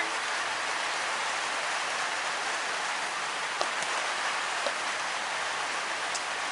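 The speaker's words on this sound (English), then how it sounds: "the rain continues to increase in intensity" Rain pours steadily over a cricket ground during a B Grade match between Diamond Creek and Mernda, a dense, even hiss filling the whole span, with a few faint clicks of drops landing nearby.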